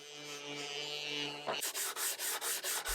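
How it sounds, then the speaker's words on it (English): A sander rubs over dried plastic wood filler patches on a small wooden storage compartment, first a smooth continuous whir, then a rhythmic series of about six scraping strokes close by. "I just went over all those spots with a sander"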